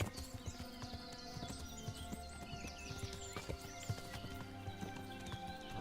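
Horse hooves clip-clopping in a steady rhythmic gait while riding in Kingdom Come: Deliverance, fairly quiet and alone, with a brief whinny and tack sounds mixed in.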